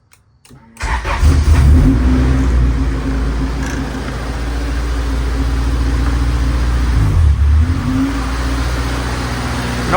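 A 2000 Honda Integra GSR engine, freshly fitted with a new MAP sensor and lacking coolant and radiator, cranks and catches, then idles with a steady mid-range drone and a couple of blips of throttle, close and loud.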